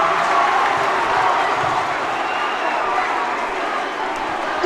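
A dense, steady roar from a packed crowd cheering at a high school boys' basketball game, sustained and fairly loud throughout with no breaks.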